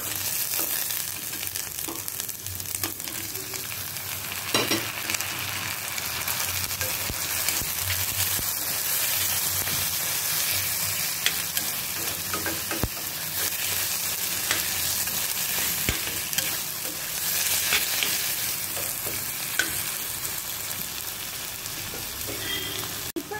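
Chopped tomatoes sizzle and fry in a hot pan with green chillies for a South Indian paneer capsicum gravy, a steady close crackle with occasional scrapes and clinks of stirring, no voices.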